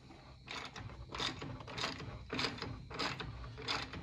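Bolts come loose on the inner fender of a 1967 Ford Mustang under a hand ratchet, with about six evenly spaced bursts of close, rapid clicking and no one talking.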